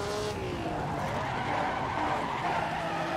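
Tires of a 1957 Maserati race car skid and squeal loudly as the brakes lock on a street circuit in Monaco, a sustained close screech over engine noise.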